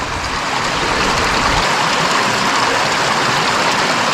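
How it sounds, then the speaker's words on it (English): Stream water flows steadily and loudly during gold panning in Wicklow, a constant close rushing wash with no pauses and no talk. "Probably should be away from the flow of the water."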